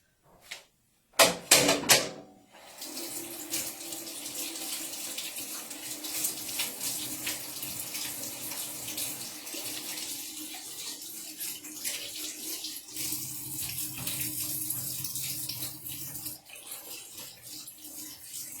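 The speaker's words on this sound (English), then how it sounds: "let me wash my hands, because I touched the bacon" Kitchen tap running steadily while hands are washed, a continuous close hiss of flowing water with splashing, preceded by a few sharp clattering knocks at the start.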